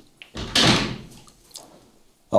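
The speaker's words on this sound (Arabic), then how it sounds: "سكر الباب" A door swings shut with a solid thud and a rattle, followed by quieter knocks and shuffling, heard close and without talk over it.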